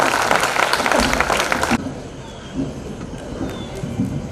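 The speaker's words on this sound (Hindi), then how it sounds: "जोरदार तालियों के बीच में मेरी बहन।" Audience at a school event applauding loudly, a dense burst of many hands clapping that cuts off abruptly partway through, leaving quieter room noise and murmuring.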